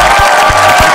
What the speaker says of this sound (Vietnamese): Một tràng vỗ tay cho siêu nhân